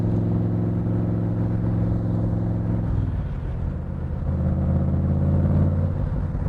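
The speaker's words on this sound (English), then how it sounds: "The car is geared to go very, very fast. I'm going 50. I'm in third gear." A 1965 Superformance Cobra's engine drones steadily in third gear at about 50 mph, a sustained mid-pitched hum whose tone shifts slightly partway through as it pulls along, loud and continuous with no talk.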